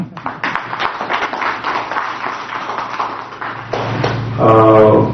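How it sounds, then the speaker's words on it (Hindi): An audience at a gathering in the Russian Culture Centre claps in a steady patter of applause lasting several seconds, followed by a sustained tonal hum near the end. "मैं सबसे निवेदन करूंगा कि आपके लिए तालियां हो जाए"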